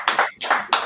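Three quick bursts of hand clapping from an audience at a community storytelling class, sharp and close, with short gaps between them and no voices.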